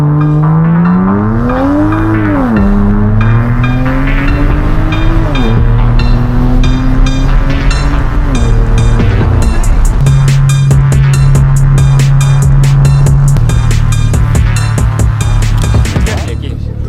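Car drifting on a street, its engine revving and rising in pitch with gliding tonal sweeps, then a steady high drone and rapid rattling pulses later on; loud and close throughout, with people talking over it.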